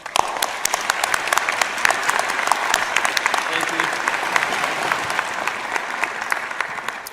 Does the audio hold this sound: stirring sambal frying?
no